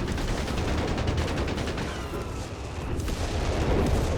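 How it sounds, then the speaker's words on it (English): Dense, continuous battle noise of cannon and artillery fire in Company of Heroes 3, with rapid overlapping shots forming a steady roar of gunfire throughout. "Cannon shots that are being used."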